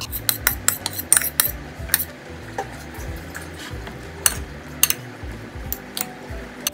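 A broccoli chicken salad is stirred and tossed with dressing, giving repeated sharp clinks and taps of a utensil on the bowl over soft moist shuffling, close and irregular, with no talking.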